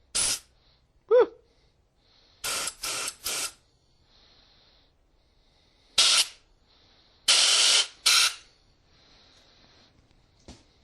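Several loud, short spray bursts into the carburetor of a Kawasaki KZ440 motorcycle, some quick doubles and triples, with pauses between them and a faint hiss in the quiet gaps.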